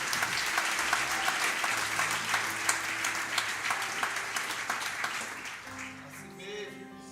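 A church congregation applauds during a sermon, loud dense clapping that fades toward the end as music and voices come in underneath.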